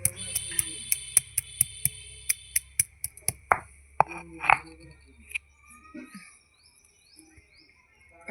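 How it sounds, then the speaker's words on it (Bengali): Garlic cloves being crushed for tempering in a home kitchen, a series of sharp evenly spaced knocks that speed up and then thin out into scattered quieter taps and scrapes. "রসুনটা আমি থেঁতো করে নিচ্ছি ফোড়নের জন্যে।"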